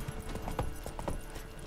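Horse hooves clip-clop in The Witcher 3, a quiet, steady patter of hoofbeats set against a dense game ambience, with no voices over it.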